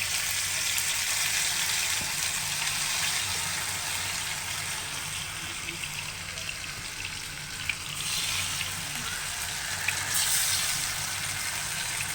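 Soaked raw plantain slices fry in hot oil in a pan, giving a steady, loud sizzling hiss that runs unbroken throughout with no voices.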